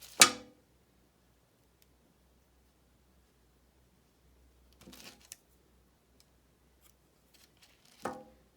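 Scissors snip through craft material while a winter postbox model is trimmed down. Three short, crisp cuts sound close by in a quiet room, one at the start, one midway and one near the end, with no talk.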